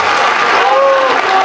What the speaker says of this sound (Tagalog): bigyan po natin ng masigabong palakpakan.